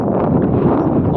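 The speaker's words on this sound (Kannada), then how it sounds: "ಗಾಳಿ ಇರಬಾರ್ದಾಗಿತ್ತು" Steady outdoor wind roars and buffets the microphone continuously, loud and close, with no speech over it.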